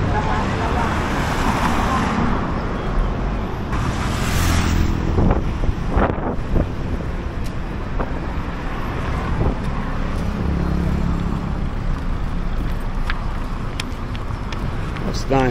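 Road traffic beside Chatuchak Market in Bangkok early in the morning, a steady wash of engine and road noise with wind buffeting the microphone, passing vehicles and a few sharp knocks, with a voice talking over it.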